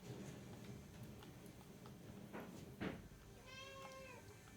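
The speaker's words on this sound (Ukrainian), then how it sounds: "Він мяукає." A house cat meows once near the end, a short drawn-out call at moderate distance over a low background hum, preceded by a couple of faint knocks.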